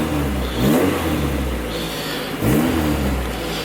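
A Honda Integra engine running and warming up after a repair, with a close steady idle and two short revs rising and falling.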